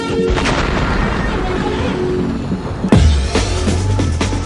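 A gunpowder explosion sound effect: one sudden deep boom that breaks through a dense rumbling bed and rolls off with a low, lingering tail.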